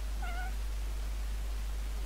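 A single short meow from a cat in the video game Chaos auf Deponia, faint and brief over a steady low hum, with no voices.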